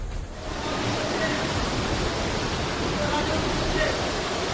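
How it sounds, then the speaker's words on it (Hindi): Floodwater rushes down basement stairs in a steady, loud broadband roar, with voices underneath. "पानी तेजी से जा रहा था"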